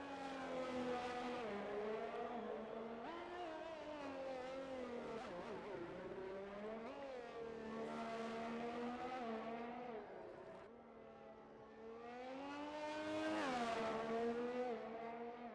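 A race car laps a circuit in a racing video game at the Singapore round: a sustained, high-revving engine whine rising and falling through gear changes and corners, continuous and fairly quiet, with no speech.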